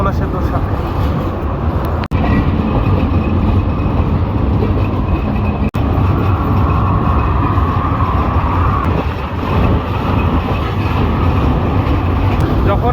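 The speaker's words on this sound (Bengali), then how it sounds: "যখন এইভাবে একসাথে ট্রেন এবং গাড়ি ঘোড়া যেমন বাস ট্রাক একই সাথে চলাফেরা করে, একই সাথে যায়" A train runs alongside buses and trucks near the Dhaka-Tangail highway, a busy route linking northern Bangladesh to the Jamuna Bridge. The result is a loud, steady, close rumble of rail and road traffic that barely breaks across the whole stretch.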